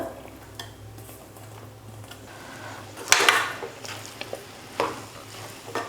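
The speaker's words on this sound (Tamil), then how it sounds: "ஸ்டவ் ரொம்ப குறைச்சி வச்சுட்டு சாதம் போட்டு கலந்துக்கணும்" Cooked rice and arai keerai spinach being stirred together in a pan over a very low flame, giving steady scraping spoon strokes and a soft sizzle, with sharper metal clatters of the utensil against the pan now and then.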